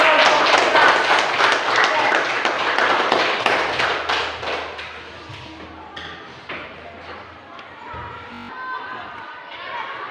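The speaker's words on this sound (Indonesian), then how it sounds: "kita beri aplaus dulu untuk kelompok kita" A church group gathering answers with applause for one of its groups: dense clapping from a crowd, loudest at first and thinning into scattered claps over several seconds.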